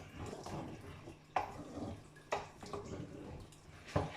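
Water swirled around inside an emptied tomato tin in a home kitchen, with a faint sloshing rinse and a few sharp metallic knocks as the tin is handled.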